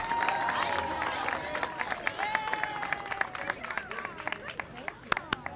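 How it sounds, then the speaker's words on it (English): Audience at a community event in Mission Hill claps steadily for the kids of the K1 program, a soft, fairly distant patter of many hands with a murmur of voices and occasional sharper individual claps. "Ladies and gentlemen, another round of applause for the kids from the K1 program."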